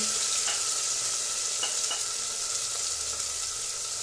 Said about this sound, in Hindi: फिर हम इसमें सारी सब्जियां फ्राई कर लेंगे जैसे कि शिमला मिर्च प्याज आलू